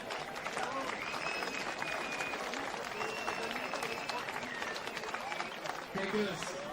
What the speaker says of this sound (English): Allez, on peut applaudir cette équipe d'Australie.